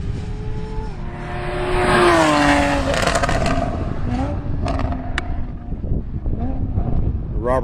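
Race car at Carolina Motorsports Park taking the kink flat out, wheels lifting, engine note rising and falling through shifts with wind buffeting and scraping bursts, loud and close.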